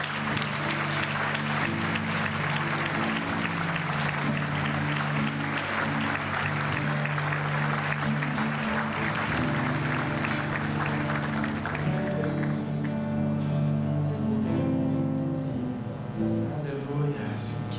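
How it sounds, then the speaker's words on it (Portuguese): Church congregation applauding at a worship celebration service, a steady sustained wash of clapping over a sustained musical backdrop for most of the clip, thinning toward the end as the music carries on. "Vamos dar um aplauso ao Senhor bem forte"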